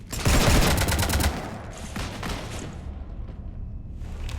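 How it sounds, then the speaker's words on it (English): Gunfire rattles in a rapid burst aimed at a ship in the game Mass Effect 3, loud at first and then fading into a rumbling, echoing aftermath. "You want to stop shooting up my ship?"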